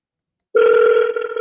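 A telephone tone starts abruptly after a brief silence, a steady, loud, close electronic hum that holds unbroken through the rest of the moment, heard alone with no voices.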